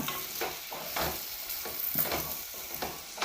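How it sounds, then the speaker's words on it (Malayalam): Beef pieces being stirred through masala in a frying pan for a coconut curry, a steady sizzle with repeated scraping strokes roughly every half second, close and fairly loud, no voices. "ഇറച്ചികളും കൂടെ ചേർത്തതിന് ശേഷം നന്നായിട്ട് നിറക്കുക"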